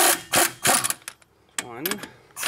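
A socket wrench loosens parts on a car, giving a few quick, close, clattering ratchet bursts, followed by a short pause and a brief voice.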